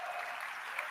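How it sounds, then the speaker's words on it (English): Audience applause fills a hall at an SXSW talk, a steady, distant wash of many hands clapping, fairly faint and continuous with no single claps standing out. "We hold for applause."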